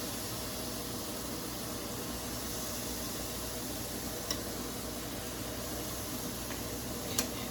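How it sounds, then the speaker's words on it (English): Steak sizzling on a grill, a steady dense hiss of searing meat holding level throughout, with a couple of faint clicks near the end and no talking. "And hear that sizzle."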